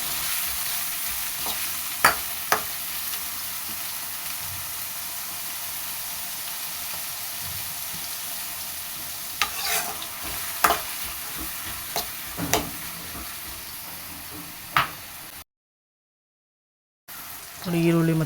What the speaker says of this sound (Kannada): ಈರುಳ್ಳಿ 2, ಅದು ಮತ್ತು ಕ್ಯಾಪ್ಸಿಕಮ್ 2 ಹಾಕ್ಕೊತಾ ಇದ್ದೀನಿ. ಹಾಕ್ಕೊಂಡು ಚೆನ್ನಾಗಿ ಹುರ್ಕೊಬೇಕು